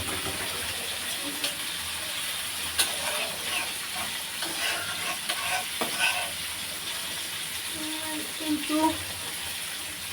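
Sautéed spices sizzle and hiss steadily in a pan as water is added to make a light gravy, with stirring scrapes and a voice speaking briefly over the cooking.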